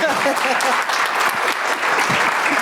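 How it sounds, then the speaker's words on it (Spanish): Steady, dense applause from a conference audience after a road safety panel, clapping continuously at close range with a few voices mixed in. "Nuevamente les agradecemos con un fuerte aplauso"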